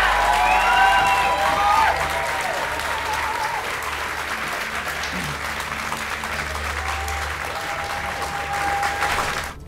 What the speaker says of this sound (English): he deserves one more big round of applause